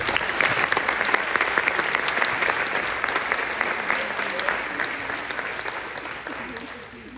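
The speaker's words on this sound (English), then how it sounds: "I'd like to give Ben a big round of applause" A high school sports awards crowd applauds a student athlete, a dense, loud burst of clapping that holds steady, then thins and tapers off near the end.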